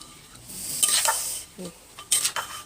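Thai crab papaya salad with fermented fish sauce and pickled crab is tipped onto a serving tray, heard as a few close scrapes, clinks and wet slides of utensils against the vessel in short bursts.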